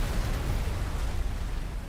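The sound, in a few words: explosion in the video game Subnautica: Below Zero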